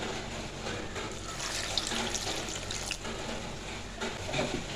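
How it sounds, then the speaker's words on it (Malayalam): Water pours steadily into a pressure cooker for curry, a continuous splashing rush that swells slightly in the middle and again toward the end. "ഇനി ആവശ്യത്തിനുള്ള വെള്ളം ഒഴിച്ചു കൊടുത്ത്"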